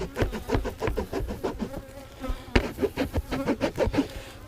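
Honey bees buzz around a hive frame in a backyard during wax-foundation work, a dense steady drone with several close passes swelling and fading, and a sharp knock partway through.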